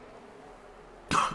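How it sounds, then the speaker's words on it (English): Near-silent room tone, then a single abrupt, loud cough bursts out close to the microphone at the very end. "had a bit of a coughing fit there"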